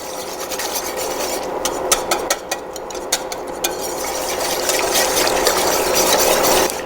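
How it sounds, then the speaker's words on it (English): A whisk works almond butter and miso together, giving a close, busy sticky scraping and stirring with quick rhythmic taps against the bowl, growing louder toward the end. "There's the 1 tablespoon, sorry, of almond butter, and 1 tablespoon of this miso. And I'm going to whisk that in."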